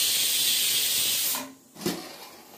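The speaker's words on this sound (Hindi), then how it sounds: "कुकर की सीटी हो रही" Pressure cooker whistle releasing steam during kheema aloo cooking: a strong steady hiss that cuts out abruptly, followed by a short puff and a quieter trailing hiss, no talking.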